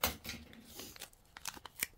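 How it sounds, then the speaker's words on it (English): Scissors snip and crunch through the plastic packaging of soft pretzels, a run of short, close, crisp cuts and rustles, with no talk. "Actually, I think I have some scissors here."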